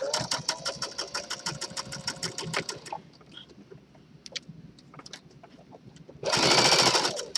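A sewing machine back stitching through skirt fabric along a fold with elastic, a close rapid mechanical chatter in bursts, pausing with soft clicks and handling noises between runs, then starting up again loudly.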